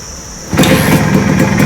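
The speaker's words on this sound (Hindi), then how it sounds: "वन किक स्टार्ट, और अभी गाड़ी एकदम प्रॉपरली आइडलिंग दे रही है।" A Yamaha RX 100 two-stroke motorcycle, freshly fitted with a new block and piston, fires up on a single kick after a brief quiet moment, then settles straight into a steady, close, buzzing idle.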